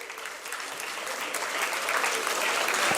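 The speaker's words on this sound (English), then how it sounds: "Let's give them a huge round of applause," Audience applause at a live event in Delhi, a dense, steady wash of many hands clapping that swells slightly louder toward the end, with no voices standing out.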